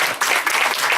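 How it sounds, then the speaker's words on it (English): An audience at a comedy show about cruises breaks into brief applause, a dense burst of clapping lasting about a second. "Can I get a round of applause if you agree?"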